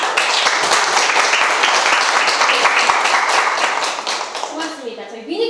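Audience applauding to open a book concert, steady close clapping from a modest crowd that tapers off near the end as a voice begins.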